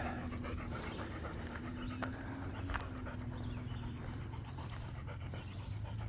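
A dog named Mocha panting on a walk outdoors, quick rhythmic breaths close by over steady background noise, with faint whimpers mixed in.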